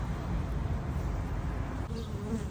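Honeybees buzzing around an opened beehive brooding box, a dense continuous drone of many insects close to the microphone, steady throughout.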